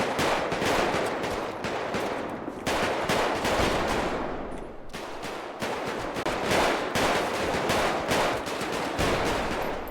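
Rapid automatic gunfire from a shooting video game, bursts of loud, dense shots repeating almost continuously with brief gaps, close and dominant, no talking over it.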